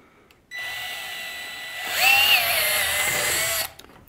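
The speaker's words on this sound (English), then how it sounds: "Go ahead and drill through." Power drill bores through a wooden gunwale of a skin-on-frame boat for a deck beam: a steady close whine for about three seconds, pitch shifting and strain rising as the bit bites deeper, then stopping abruptly.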